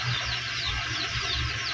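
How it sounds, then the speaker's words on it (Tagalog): Steady chorus of chicks chirping rapidly, high and busy, with a low rumble of an idling scooter engine underneath. "Grabe naman ang ingay sa mga sisiw dito"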